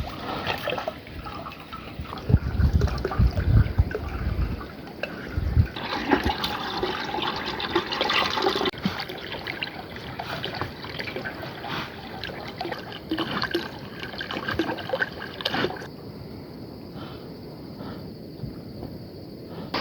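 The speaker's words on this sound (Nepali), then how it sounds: "टन्नै पानी परिरहेछ।" Heavy rain pours down steadily outdoors in a rural setting where livestock are being herded home, a loud, continuous wash of water close by with no talking.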